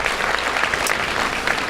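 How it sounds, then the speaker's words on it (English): Audience applause fills a sports hall of fame induction ceremony, a steady dense wash of clapping that stays loud and even throughout, with no voices standing out. "if you guys would give a round of applause"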